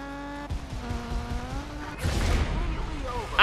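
Rally car engine revs in Colin McRae Dirt 2, dropping as the handbrake is tapped for the final corner, followed by a loud burst of tire skid on loose ground; a voice talks over it.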